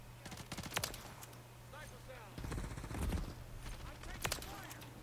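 BP50 rifle gunfire in Call of Duty MW3, quick bursts of shots scattered through the match under a steady game hum, with a voice talking in places.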